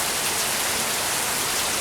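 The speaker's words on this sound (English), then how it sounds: "Look at this rain." Heavy rain falls steadily outdoors in Louisiana, a dense, loud hiss of drops filling the whole stretch with no break.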